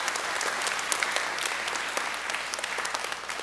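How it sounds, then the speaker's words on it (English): Applause from an audience at a Catholic school's Christmas program for grade-school children, honoring high school student helpers: dense, steady clapping from many hands, sustained and fairly close throughout with no voices over it. "Let's give them a round of applause."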